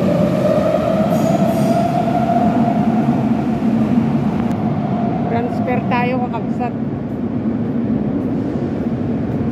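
An Athens metro train in an underground station rumbles loudly and continuously, with a droning hum, faint wheel squeal and brief metallic screeches, while a person talks over the noise.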